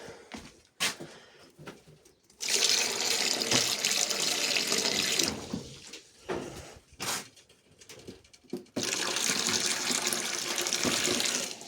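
A tap runs in loud bursts to fill rabbits' drinking water, stopping and restarting several times, while birds chirp faintly in the background.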